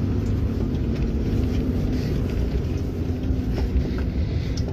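An engine held at high RPM drones in a low, steady roar, close and constant, with some wind buffeting over the top and no voices.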